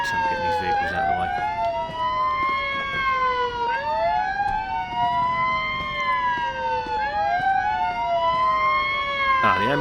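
Wailing ambulance siren in the Police Simulator: Patrol Officers video game, loud and continuous with rising and falling sweeps overlapping a second siren tone over a steady background hum.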